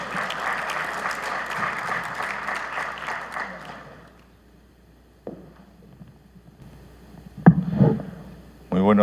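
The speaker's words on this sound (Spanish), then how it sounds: "Vamos a recibirlo con un cálido aplauso." An audience at an energy-sector conference claps steadily for about four seconds to welcome a speaker. The applause then fades into quiet, with scattered handling noises and a brief bit of speech afterward.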